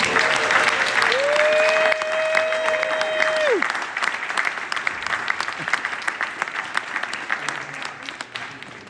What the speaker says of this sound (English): let's give a well-earned round of applause to our released suspects